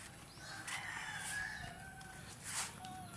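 Backyard chickens on an overcast morning in Negros Oriental cluck and call faintly at a distance, with a couple of brief rising cries standing out over a soft outdoor background.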